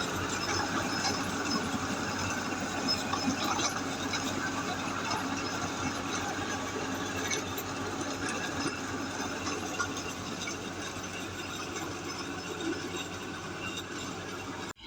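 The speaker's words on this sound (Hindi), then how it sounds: "पापा भी अभी चला रहे हैं ट्रैक्टर अंदर" Tractor engine running steadily while being driven through a village, a continuous low mechanical drone with an even rumble and no pauses throughout.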